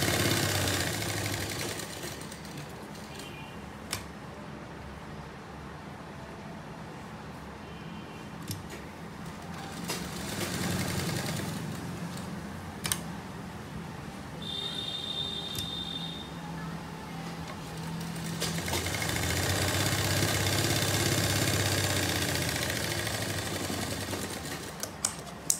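A sewing machine stitches a kurta in a long, steady run, its motor humming and needle ticking close by, swelling louder in stretches toward the end.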